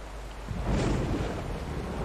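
Thunder after a huge lightning strike in a horror video game, a low, deep rumble swelling in from a soft, steady rain-like hiss and rolling on without a sharp crack.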